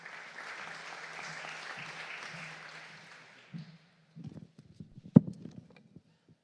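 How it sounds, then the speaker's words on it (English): Quiet applause from a small audience in a conference hall fades out after a few seconds, followed by scattered footsteps and light thumps. "Give him a big applause"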